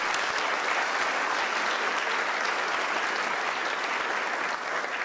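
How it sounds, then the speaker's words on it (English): A university convocation audience applauding, sustained dense clapping from a large crowd at an even, loud level for several seconds, tapering slightly near the end. "we should give her a round of applause"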